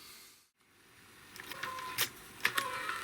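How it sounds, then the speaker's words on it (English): Motor noise from a HiFiVox MH2000 reel-to-reel tape recorder after its amp board was recapped, a faint mechanical whir with several short clicks and ticks, heard close and alone after a brief gap of silence. "We're still playing okay, but we've still got some motor noise"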